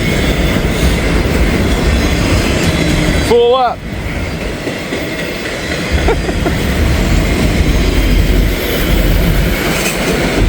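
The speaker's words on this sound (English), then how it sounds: "I know it's an Autorack train" A heavy BNSF autorack freight train rolls past in a steady, loud rumble, with a brief high wheel squeal early on and a short spoken remark.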